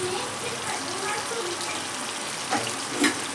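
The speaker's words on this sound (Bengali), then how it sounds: "এখন আলুটা আমি লাল লাল করে ভেজে নিই" Potatoes fry in hot oil with salt and turmeric, a loud continuous sizzle with occasional stirring and scraping from a spatula, and a couple of louder bursts toward the end.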